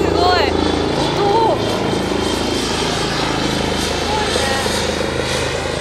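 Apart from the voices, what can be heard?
helicopter flying near Narita Airport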